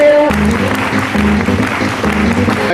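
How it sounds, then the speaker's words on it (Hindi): Audience applause at a business talk, dense loud clapping throughout, with a voice and tonal sounds mixed in underneath. "एक बार जोरदार तालियों के बीच मैं माइक्रोफोन उन्हीं को दे रहा हूँ।"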